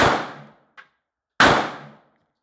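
Taurus GX4 pistol firing Magtech rounds before a failure to feed: two loud, close gunshots about one and a half seconds apart, with a short metallic click between them.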